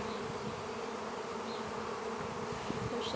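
Honey bees buzz around a hive that is preparing to swarm, a soft, steady droning hum with a few individual bees passing near the microphone, and no voices.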